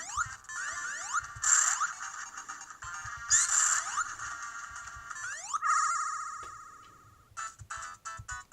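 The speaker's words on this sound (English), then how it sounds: "sometimes we do have minor problems with the ring sound effect" Glitchy ring-collect chime from a video game emulated on a Powkiddy Q20 Mini handheld, bright repeated pings in uneven bursts, some cutting off abruptly, one drawn out and fading, heard alone.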